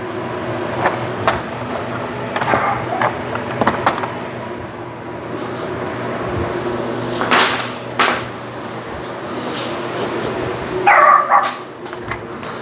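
A Jack Russell terrier named Charlie barks in sharp, scattered yips and woofs around a workshop where a work table is being built, with a louder cluster of barks near the end over low room hum.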